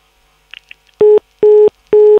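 Three evenly spaced electronic beeps, loud and clear, like a disconnected phone line tone, preceded by a few faint clicks.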